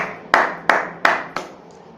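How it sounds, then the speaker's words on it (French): Four sharp, evenly spaced hand claps ring out loud and close in a French-speaking church service, each fading quickly in a reverberant room, with no talk. "Applaudissez pour le Seigneur"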